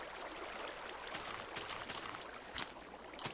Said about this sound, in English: there's one water source here, and then it splits up into like a waterfall over here